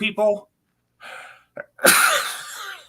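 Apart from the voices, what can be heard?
sneeze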